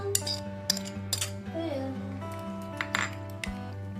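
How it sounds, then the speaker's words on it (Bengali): A spoon mixes raita paste of mustard and coriander into sour yogurt in a bowl, with light clinks and scrapes against the dish over a steady hum, close and fairly quiet. "ভালো করে মিক্স করে নেব।"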